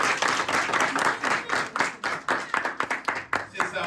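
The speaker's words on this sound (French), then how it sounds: "On nous bat un applaudissement pour lui." A church congregation claps in rhythmic, pulsing applause, fairly loud and close, with voices mixed in underneath.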